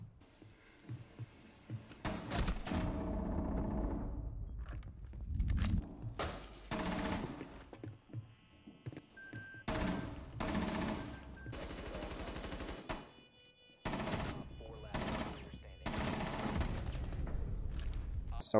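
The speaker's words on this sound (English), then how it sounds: "I actually almost just lost that gunfire" Video game shooter gunfire crackles in loud, rapid bursts and sustained volleys, broken by short silent gaps.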